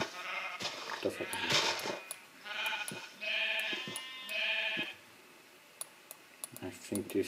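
Several bleats from sheep in the Minecraft video game come one after another, wavering and moderately loud, mixed with short clicks and game sounds, then a quieter stretch with scattered taps.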